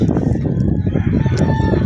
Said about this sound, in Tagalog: ay may manok na yan